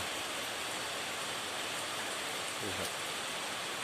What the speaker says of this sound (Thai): ฝนก็ตกทั้งวันไม่หยุดเลยครับ